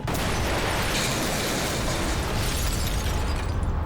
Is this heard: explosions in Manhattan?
yes